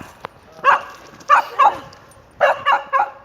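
Several short, high yips and barks from a small dog come in quick bursts, close by, with no one talking.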